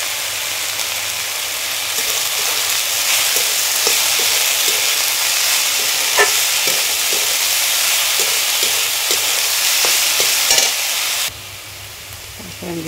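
Fiddlehead fern greens fry in a pan with a steady, loud sizzle and hiss, broken by occasional small clicks and stirring sounds, easing off slightly near the end.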